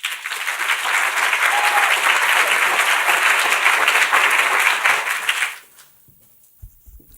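A crowd at a State of the City event applauds Mayor Joan Peck, loud sustained clapping for over five seconds that cuts off sharply, leaving near silence with a few small knocks.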